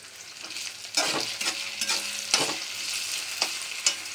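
Steady frying in a pan over a raised flame, with a continuous sizzle broken by repeated scraping stirs of a spatula, close and fairly loud with no voices.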